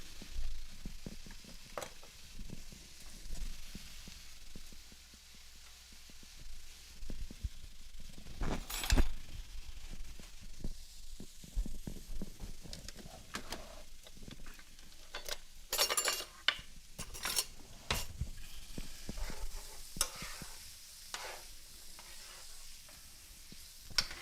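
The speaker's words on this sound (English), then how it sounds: "we're just trying to cook the vegetables until they're translucent, or, just soft" Chopped vegetables and garlic sizzle quietly in a pot while a utensil stirs, with occasional sharp scrapes and clinks against the metal over a soft, steady frying hiss.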